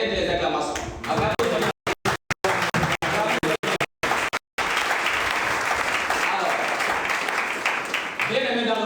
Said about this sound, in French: Je crois bien que ça mérite les acclamations